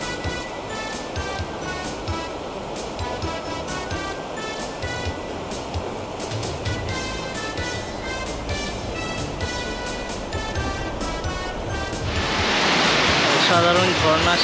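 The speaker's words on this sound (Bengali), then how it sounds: "এখানে চমৎকার ঝর্ণাটি আমাদের গতি রুদ্ধ করে দিল।" A waterfall beside a mountain road in Sikkim sends up a steady, broad rushing roar that swells louder near the end, with musical tones running over it.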